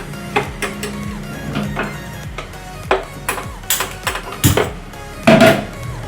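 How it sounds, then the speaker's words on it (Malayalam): Metal spoon knocking and scraping against a pot while rasam is stirred with tamarind water, a run of sharp clinks and taps of varying loudness, close and with no talk. "പുളിവെള്ളം നമ്മൾ ചേർത്തിട്ട് ഇളക്കുക"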